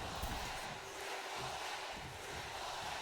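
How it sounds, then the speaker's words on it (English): A wrestling arena crowd roars for Triple H in a continuous dense wash of cheering and shouting, loud and sustained throughout. "This crowd defiantly behind Triple H."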